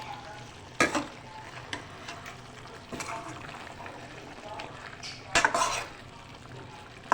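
Potatoes frying in a pan for a spicy aloo katli with fenugreek, being stirred and mixed, with a few sharp scrapes and clatters of a spoon over a soft steady sizzle.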